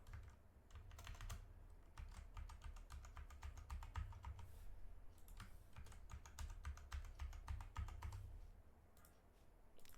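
Rapid, steady typing on a computer keyboard while entering a password when creating a new wallet, dense clicking keystrokes with brief pauses, close and clear over a low hum.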